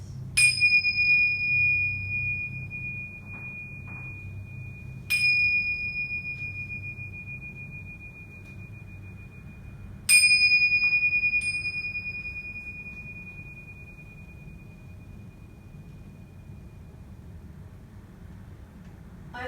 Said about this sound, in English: let's seal it in with a sound of 3 bells